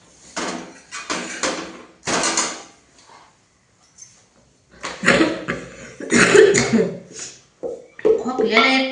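A person coughs in a home kitchen: several close, loud cough bursts separated by short pauses, then a quieter stretch before another cluster of harsh coughs.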